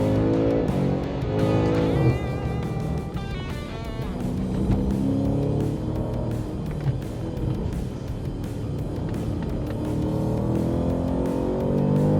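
A BMW M5 CS drives fast on the Körfez race track, its engine revving and shifting with rising and falling tones, heard from inside the car at moderate level, continuous and without talk.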